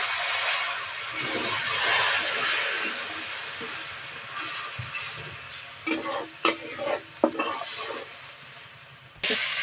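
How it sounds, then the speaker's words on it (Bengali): Spice masala with ground cumin stirred and fried in a pan while cooking aloo dum: a steady broadband sizzle fills the clip, with sharper scraping clinks of the spoon against the pan toward the end. "নেড়ে চেড়ে মশলাটা ভালো করে কষিয়ে নেবো"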